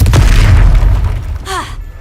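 A Confringo blasting spell explodes during a Hogwarts Legacy duel, a loud low boom with rumbling tail that fades after about a second, followed by a brief whooshing magical flourish.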